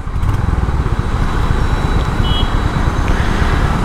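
A Royal Enfield Hunter 350 motorcycle rides through city traffic, its engine giving a close, steady low rumble that mixes with road and wind noise throughout.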